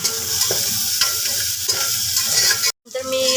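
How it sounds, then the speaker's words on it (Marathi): Spices being stirred in a hot frying pan, a steady close sizzle with scraping strokes of the spoon and a short break near the end. "ते सगळे मसाले घालून ना याला पुन्हा एकदा व्यवस्थित मिक्स करून घेते"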